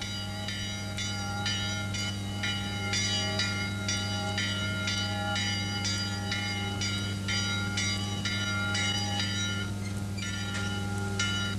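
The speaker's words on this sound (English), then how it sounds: "the Eastern Bell Tower summons the monks and novices for daily sunset prayers" Church bells ring from the eastern bell tower of a Coptic monastery in Egypt, summoning monks to sunset prayers; repeated metallic strikes sound in a steady rhythm over a constant low hum, with no talking.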